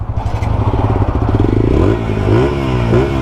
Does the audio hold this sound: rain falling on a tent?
no